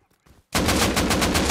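Rapid automatic gunfire in the Rust console game, a loud sustained burst that cuts in abruptly after a brief quiet moment, dense and continuous to the end.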